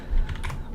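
A few quick keystrokes on a computer keyboard, close and crisp, while searching for the Microsoft Update Catalog on Windows 10.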